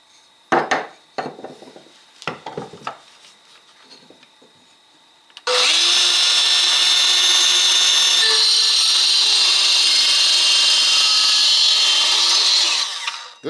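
A Makita SH02Z 3-3/8 inch cordless circular saw cuts through wood, beginning with a few sharp knocks and handling clatter, then a loud sustained high whine of the blade biting steadily for about eight seconds.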